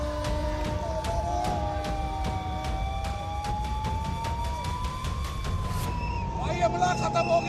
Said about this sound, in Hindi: अमृतसर में जंगी सायरन बजा